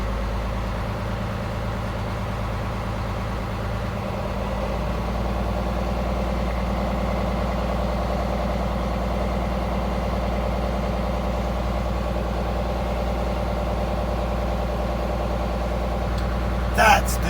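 A class A truck's diesel engine is revved during a pre-trip inspection to build air brake pressure back up to about 120, a steady low rumble throughout with a brief clatter near the end.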